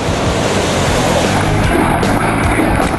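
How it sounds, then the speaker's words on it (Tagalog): Ocean surf at Siargao island, a roar of breaking waves that fills the whole stretch with continuous wash, loud and close, with some wind buffeting the microphone. "Salamat sa malupit na alon."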